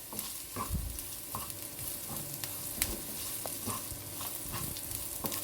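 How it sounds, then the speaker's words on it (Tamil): Sliced onions stir-fry in oil for a Chettinad potato fry, a constant close sizzle broken by repeated scraping and clacking of a spatula against the pan at an uneven rhythm. "வெங்காயத்தோட கலர் மாறுற வரைக்கும் வதக்கி விட்டுக்கோங்க."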